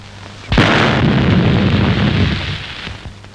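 A country-made bomb goes off in a Tamil film comedy scene: one sudden loud blast that rumbles and crackles on for about two seconds before it fades out.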